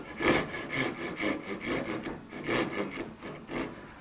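A hand saw cuts a wooden part free during the build of a 1964 Gibson ES-335 guitar, giving about eight steady, rasping back-and-forth strokes that sound close and moderately loud, with no talking.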